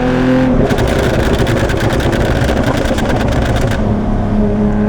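A Porsche 911 GT3 Touring with a 6-speed manual driven hard, its engine roaring loudly and close, with a rapid buzzing rev climb in the middle before settling back to a steady drone.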